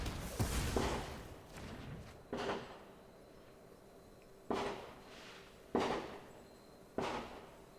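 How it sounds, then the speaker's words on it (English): Fireworks effect in the card game MTG Arena: several separate sharp bursts, roughly five pops spread unevenly over a few seconds, each decaying quickly against a quiet game backdrop with no talking. "No, it's just fireworks"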